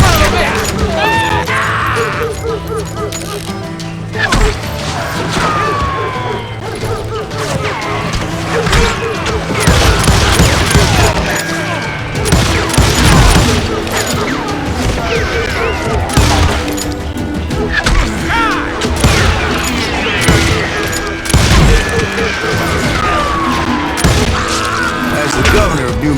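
Gunfire fills a Call of Juarez Gunslinger shootout: repeated loud shots, crashes and booms layered over game music, with voices shouting during the firefight.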